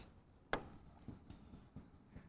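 Marker or chalk strokes on a classroom board while a sentence is written, a sharp tap followed by a series of soft, scratchy strokes at an irregular pace, close and fairly quiet with no talking.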